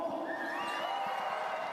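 A basketball crowd at a FIBA Asia Cup qualifier between New Zealand and Chinese Taipei, cheering and whooping at tip-off, a steady wash of distant voices with rising whistles and shouts.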